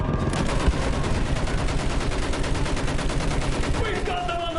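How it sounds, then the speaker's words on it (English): Sustained machine gun fire in a trench-warfare video game battle, dense rapid bursts rolling on without pause over a loud clattering combat din, with voices shouting faintly underneath. "Use that machine gun! Mow them down!"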